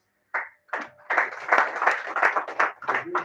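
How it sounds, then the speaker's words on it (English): An audience at a Mountains of the Moon University assembly starts clapping with a few scattered claps, which quickly swell into steady, sustained applause from a crowd. "a good clap."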